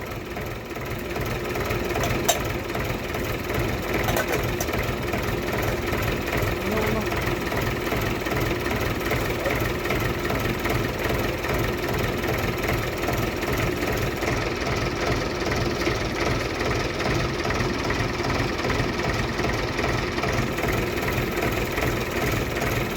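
A Mahindra 575 DI tractor's diesel engine runs steadily at idle with a low, continuous thrum and knocking pulse, close and loud throughout, while people talk over it.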